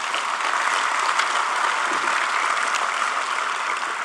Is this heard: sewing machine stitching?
no